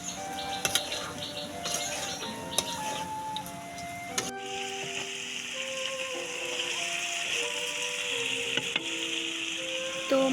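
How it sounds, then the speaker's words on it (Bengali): Fresh pond fish fry in oil with turmeric and salt, a steady hiss of sizzling that grows fuller partway through, with a few faint clicks and tonal sounds in the background. "হলুদ এবং লবণ দিয়ে এগুলোকে ভেজে মাছগুলো দিয়ে দিব"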